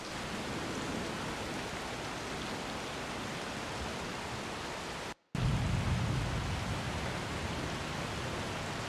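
Rain for a rainy city soundscape hisses as a continuous broadband wash. It cuts off briefly to silence, then resumes as a slightly louder, heavier recording with more low rumble.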